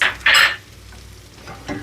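A spoon stirs a stuffed-shell pasta filling with Italian herbs and red pepper flakes, two quick loud scraping strokes close by, then quieter soft mixing.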